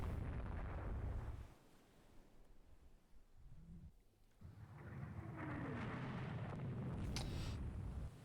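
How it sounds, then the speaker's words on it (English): Naval gunfire from secondary batteries striking warships in a Rule the Waves 3 battle in the English Channel, heard as heavy rumbling booms and blasts that come and go in waves, loud and continuous with no talking. "Nope, still getting blown to bits by secondaries"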